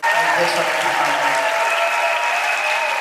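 Loud, dense audience applause fills a hall at an International African Women's Day event, a steady wash of many hands clapping close and unbroken for several seconds, with a faint murmur of voices underneath.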